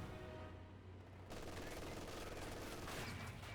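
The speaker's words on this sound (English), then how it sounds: "Nice suppression here from the MG42 will suppress this lieutenant." An MG42 machine gun fires in Company of Heroes 2, a dense, rapid, continuous burst of gunfire that is faint and distant under the game's other battle noise.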